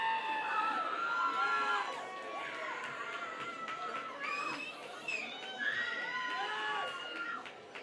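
Crowd at a Canadian junior football game between the Okanagan Sun and Prince George Kodiaks, a steady roar of cheering with shouts and whoops rising and swelling throughout, near and loud.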